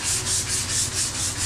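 Steady back-and-forth sanding with sandpaper during a home renovation, a rhythmic rasping scrape repeating about every quarter second, close and alone.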